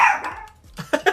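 A dog barks a few short times in a brief burst, fairly close and loud.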